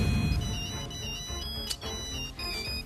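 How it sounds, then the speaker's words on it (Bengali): A mobile phone rings with a repeating electronic melody of bright tones, fairly close and steady, with faint background room noise and no talk. "আরে বাবা, ফোনটা তো বেজে"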